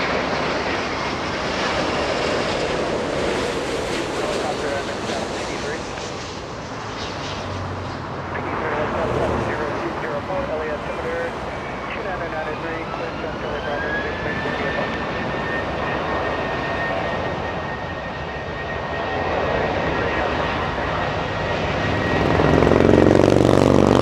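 A jet airliner rolls for takeoff at Los Angeles International Airport, a steady loud engine roar with a rising whine that levels off, while tower radio chatter plays over it.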